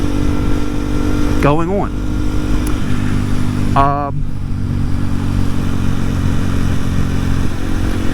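A 2023 Kawasaki KLX 230SM fitted with Bridgestone Battle Axe S22 tires runs on the road with a continuous low engine drone and wind noise. A rider talks over it.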